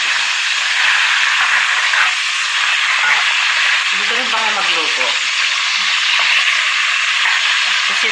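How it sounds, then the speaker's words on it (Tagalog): Bagoong, a fermented shrimp paste, being sautéed in a pan: a loud, continuous sizzling hiss with occasional stirring scrapes, while a faint voice briefly surfaces midway. "Ginigisa namin yung bagoong para hindi siya lasang hilaw na bagoong."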